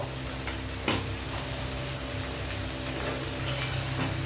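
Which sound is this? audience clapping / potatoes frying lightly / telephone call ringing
potatoes frying lightly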